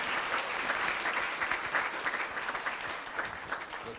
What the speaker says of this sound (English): Why don't we give Dr. Derezotes a round of applause?